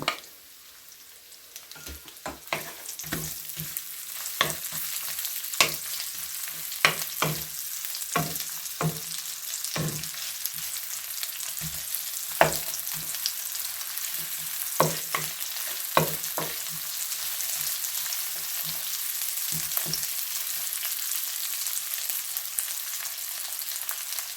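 Sliced onion fried in a hot wok, a steady loud sizzle with frequent sharp scraping and stirring strokes of a spatula throughout, close up and without talk.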